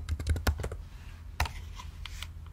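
Computer keyboard keys typed in a quick burst of clicks, then a pause and a few more taps, close and clear while someone enters a new password.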